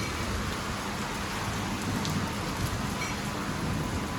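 Heavy rain pours steadily throughout, with low thunder rumbling underneath; no voices.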